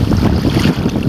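A loud ocean wave washes in on a beach in Cuba, a brief, close rush of surf and wind noise with no talk.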